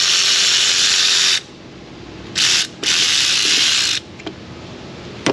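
A power tool works fasteners on a Duramax 6.6 diesel engine: loud, close whirring bursts, one long run, then two short runs and a longer one, with small metallic clicks between and no talk.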